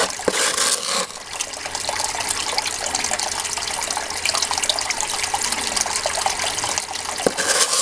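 Water runs steadily through a gold-prospecting cleanup sluice after the material has been processed, a continuous close splashing wash with no talk.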